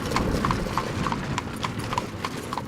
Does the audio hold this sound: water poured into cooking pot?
no